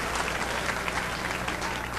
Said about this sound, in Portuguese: Aplauda outra vez ao Senhor Jesus.